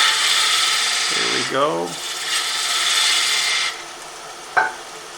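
Lathe turning of a solid wood holiday tree decoration, a tool cutting a small bevel on the base, gives a steady rasping hiss with brief chattering scrapes midway, then stops as a voice speaks briefly near the end.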